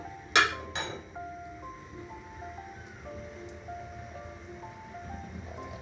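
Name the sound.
stirring food in pot and covering it with lid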